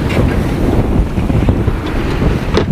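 Steady wind roaring across the microphone aboard a sailboat just after tacking, a continuous close rumble mixed with faint splashing water and no talking.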